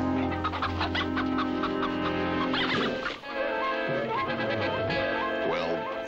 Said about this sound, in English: What he hadn't figured on was some belligerent chickens, agile as blue jays and loud as crows.